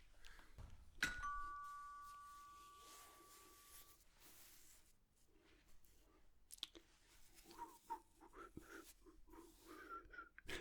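A single electronic doorbell chime rings out with a sustained ringing tone that slowly fades, followed by quieter clattering and rustling nearby.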